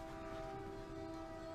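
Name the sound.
passing train with horn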